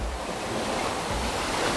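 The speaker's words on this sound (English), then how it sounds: "Look at these waves." Steady roar of surf with waves washing in, broadband and continuous, mixed with wind rumble on the microphone.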